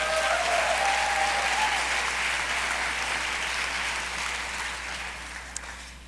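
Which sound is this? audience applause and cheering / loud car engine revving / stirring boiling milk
audience applause and cheering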